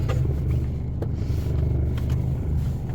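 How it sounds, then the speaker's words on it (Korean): Car engine idling steadily just after being started, a low, even rumble heard up close for a few seconds, with a couple of faint clicks and no one talking. "시동 걸리는 데는 이상 없습니다"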